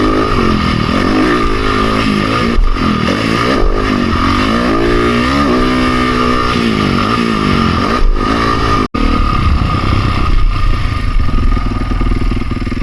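A Honda CRF450R dirt bike engine drones loudly and continuously while riding, lugging at low revs with rises and dips in pitch, one brief cut near the end, and no talk.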